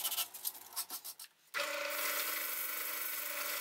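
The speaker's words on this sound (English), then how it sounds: "Just going to use some sandpaper and just get everything smoothed off." Sandpaper rubs against a turned wooden knob spinning in a lathe chuck, first in short scratchy strokes, then after a brief pause as a steady loud hiss of abrasion with a faint motor hum beneath.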